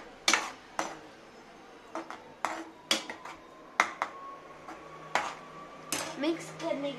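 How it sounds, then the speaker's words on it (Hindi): Spoon stirring garam masala into gravy in a metal pan, a series of sharp, close clinks and taps against the pan's side at irregular intervals over a faint sizzle. "अब हम इसको मिक्स करेंगे"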